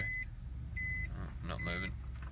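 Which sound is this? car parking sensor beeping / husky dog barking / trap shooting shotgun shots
car parking sensor beeping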